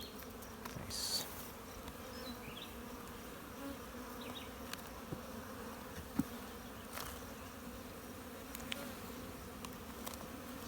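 Honey bees buzz in a steady continuous hum around an open hive of young bees, with wind passing over the frames and a few brief louder buzzes close by.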